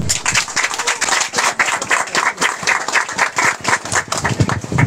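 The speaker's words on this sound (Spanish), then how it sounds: "Un aplauso." A crowd at a Day of Peace commemoration in Granada claps, with distinct, sharp hand claps in an uneven, somewhat rhythmic patter rather than a smooth roar.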